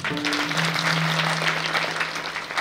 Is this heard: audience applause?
yes